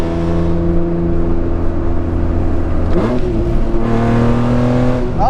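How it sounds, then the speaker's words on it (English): A BMW E36 M3 race car's inline-six engine revs hard and loud up close, a raspy unrefined drone with a gear change around the midpoint before climbing again. "you can't beat the sound of an inline 6"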